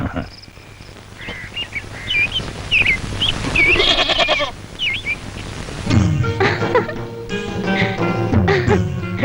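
A goat bleats several times close by, its cries wavering over a background of other animal calls and outdoor noise.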